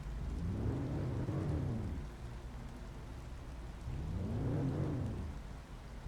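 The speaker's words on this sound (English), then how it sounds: "The thing about the rain is as peaceful as it is. And I love the sound design." Steady rain hiss with two deep rolls of thunder rumbling up and fading away, no voices, in the video game The Planet Crafter.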